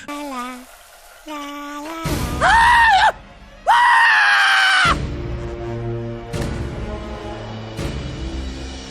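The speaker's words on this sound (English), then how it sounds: "Everyone was running, everybody was screaming." Children screaming in a South Park cartoon scene, shrill cries bursting loudly in two sustained peaks amid other cartoon voices and crowd noise, continuing under busy mixed sound.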